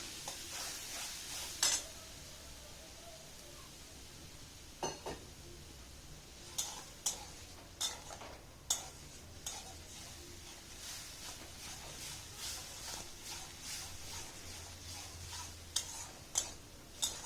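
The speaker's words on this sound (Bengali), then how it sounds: "ভালো করে পেঁয়াজ বাটা আর তেজপাতাটা তেলের মধ্যে কষতে হবে" Onion paste and bay leaf sautéed in oil for a paneer curry, a quiet continuous sizzle broken by scattered sharp clicks and taps of a utensil against the pan, no talking.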